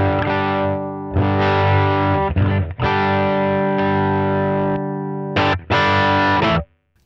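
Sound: electric guitar through a NUX Trident drive

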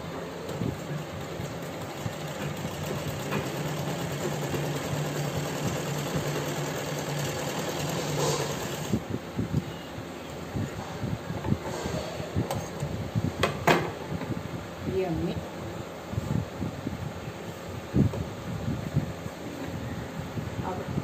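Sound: sewing machine stitching on a trouser pocket

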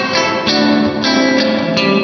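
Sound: EMT 140 plate reverb on Poly Effects Beebo pedal, bright setting

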